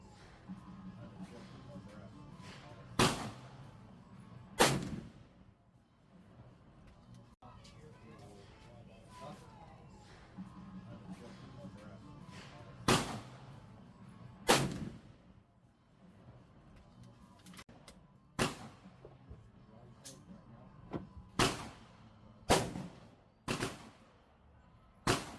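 A small pistol fires at a target 50 yards away at an outdoor range, sharp loud shots spaced apart in irregular pairs and bursts, with quiet background between them and no one talking.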